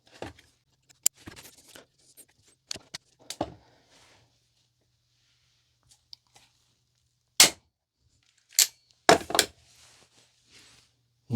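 Hand rivet tool setting rivets in a polyurethane-upgraded front strut mount on a Jaguar XK8/XKR: scattered sharp snaps and metallic clicks with quiet gaps, then a few loud, close cracks near the end.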